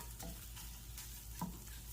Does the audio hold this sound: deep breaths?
no